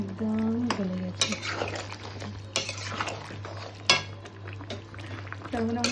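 A spoon scrapes and clinks against a pan while chicken curry is stirred, with tomatoes already melted into it, giving irregular metallic knocks and scraping strokes over a steady low hum, and a voice speaks briefly at the start and end.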